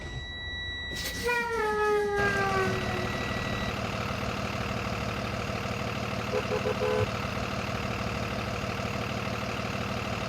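A 2023 bus engine in the video game Rigs of Rods starts with rising whines and tones, then settles into a steady, loud, low rumbling idle with faint beeps midway.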